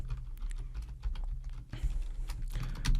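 Keys clatter on a computer keyboard as a short post is typed, a brisk irregular run of close clicks and taps with no one speaking.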